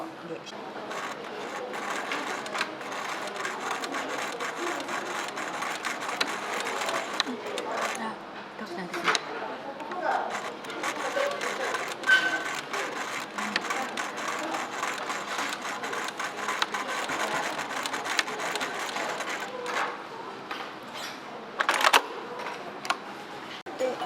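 A sewing machine stitching in steady runs, its rapid mechanical whir and clatter close by, pausing and restarting, with people talking over it.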